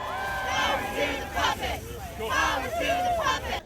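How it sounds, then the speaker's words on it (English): A large outdoor rally crowd in Lincoln Park, a loud babble of many voices with shouts and cheering rising and falling throughout. "there's quite a crowd gathered here"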